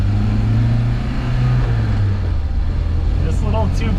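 A 1967 Volvo Amazon 122S with a rebuilt 2.0-liter engine accelerates, its steady low engine drone heard from inside the cabin, then easing off as the note fades and a voice begins to speak.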